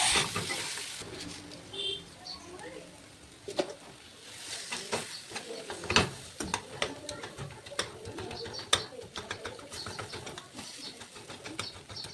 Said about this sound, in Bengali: তারপর এই মিশ্রণটা দিয়ে দিচ্ছি, আর এটা প্রায় 5 মিনিট মতো এটা আমি ভেজে নেব